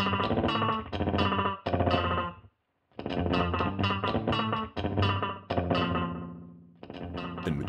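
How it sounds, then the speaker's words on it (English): A guitar-like instrument played through the Mantis plugin, an emulation of a BBD echo with tape-style wow and flutter and a chorus delay, sounds as loud chopped phrases with smeared, modulated repeats and one brief silent gap. "a modulator that can mimic the wow and flutter of a tape echo or turn the unit into a unique chorus delay"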